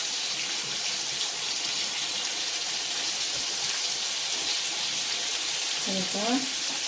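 Stuffed bitter gourd frying in a generous amount of oil, a continuous soft sizzling hiss that stays even, with a faint clatter near the end and no talking.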